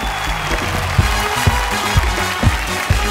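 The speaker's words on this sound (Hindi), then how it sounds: "जोरदार ताली" A crowd applauds with clapping and some rhythmic beats, a steady wash of hands with a few sharper accents.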